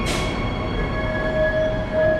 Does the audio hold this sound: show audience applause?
no